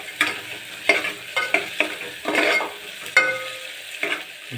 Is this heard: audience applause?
no